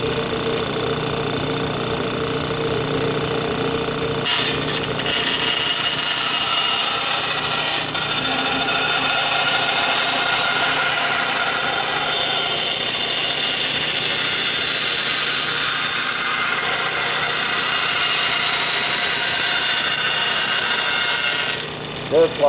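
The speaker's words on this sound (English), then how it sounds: "the bandsaw itself is going to follow this line" A bandsaw runs continuously while cutting a curved line in wood, a loud, steady whine and rasp that holds for about twenty seconds with a brief shift near the start and a stop at the very end.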